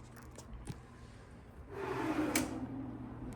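A bedside table drawer in a Disney Boardwalk Villas deluxe studio slides open or shut with a single muffled scrape, close by and alone, following a few faint knocks.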